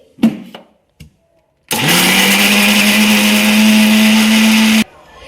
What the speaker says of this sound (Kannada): ಮಿಕ್ಸಿಗೆ ಹಾಕೊಂಡು ರುಬ್ಕೋಬೇಕು ನುಣ್ಣಗೆ.